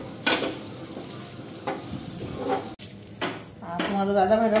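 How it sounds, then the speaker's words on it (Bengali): Ready-made parathas frying in a pan at a home picnic cook-up, soft sizzling with intermittent scraping and clattering of a utensil against the pan, close and moderately quiet. "তো পরোটা আনলো, রেডিমেড পরোটা, তো পরোটাগুলি ভাজা দিতেছি।"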